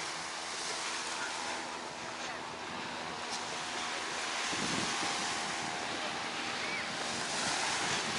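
Ocean surf washes steadily onto Miami's South Beach, a constant broad hiss with wind buffeting the microphone and a swell of breaking water midway.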